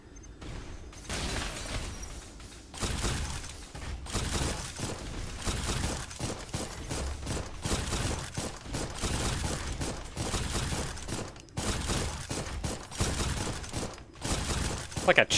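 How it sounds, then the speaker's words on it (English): Rapid chain-shotgun fire in the video game Dolls Nest, a dense run of repeated blasts and mechanical clatter that keeps going for the whole stretch, loud and close, with a voice talking now and then over the barrage. "Like a chain shotgun?"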